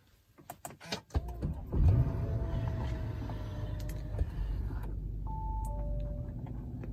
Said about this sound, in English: But start the car,